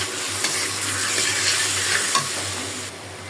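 Tomato with turmeric, chili and ground spice paste sizzles steadily in a pan while being stirred, a continuous close frying hiss with faint scraping throughout and no talking.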